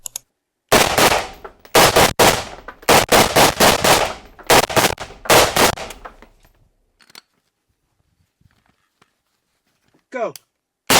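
Rapid bursts of gunshots from a gun fitted with a suppressor crack in quick clusters over several seconds, then fall silent apart from a few faint sounds and a brief voice.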